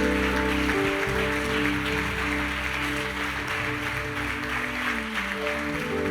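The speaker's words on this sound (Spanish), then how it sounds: "Dale un fuerte aplauso." A church congregation applauds loudly and steadily for several seconds over sustained organ or keyboard chords, the clapping dense and continuous with a few voices mixed in.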